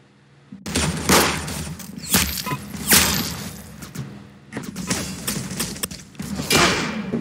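Rapid bursts of paintball gun fire in the Roblox game Arsenal, loud and dense, in several volleys with short gaps between them.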